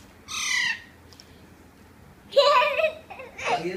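Young pet parrot squawking in harsh, loud bursts up close: one short call, a pause, then a longer run of squawks with a voice speaking faintly in the background.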